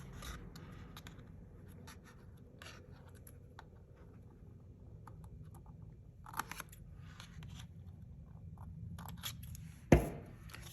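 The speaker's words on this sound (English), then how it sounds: "And now, again, I'm just going to trim." Scissors trim paper for a handmade Valentine card, giving soft, quiet snips and paper rustles at a close distance, with a sharper snip near the end and no talking.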